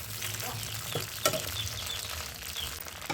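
Okra sizzling and frying in a hot pan on a gas stove, with a steady crackle, soft stirring scrapes and one sharper clatter midway; no talking.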